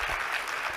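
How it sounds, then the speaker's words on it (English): Audience applause at a talk on agentic commerce and AI, a brief, fairly faint wash of many hands clapping, steady and without voices. "join me for a big applause again"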